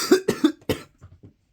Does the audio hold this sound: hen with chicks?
no